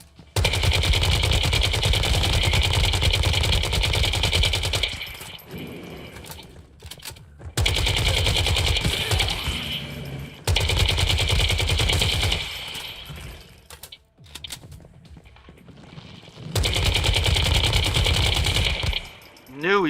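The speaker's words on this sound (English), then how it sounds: "Knew he was gonna shoot at me." Rapid automatic gunfire in the survival shooter Once Human comes in three long, loud, sustained bursts separated by quieter gaps, with a few shorter shots in between.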